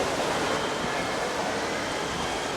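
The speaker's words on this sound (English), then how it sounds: "We're greeted by a waterfall that is just awesome" Waterfall inside the Gardens by the Bay cloud forest in Singapore, a steady, dense roar of falling water that fills the whole stretch evenly and close by, with no voices over it.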